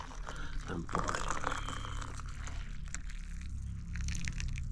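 Tea pours from a flask into a cup at a village breakfast, a soft close trickle of liquid lasting a few seconds, fairly quiet.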